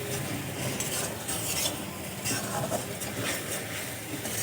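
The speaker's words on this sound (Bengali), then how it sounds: "বেশ কিছুক্ষণ ধরে আমি মশলা খুব ভালো করে কষিয়ে নিয়েছি।" Spice masala being stir-fried in a pan for a Bhola fish curry, with a steady scrape and sizzle of stirring running throughout at moderate, even loudness.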